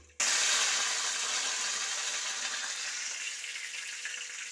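Mustard seeds and curry leaves drop into hot oil for a milk kappa dish, bursting into a loud, steady hiss of sizzling that starts abruptly and slowly eases over several seconds.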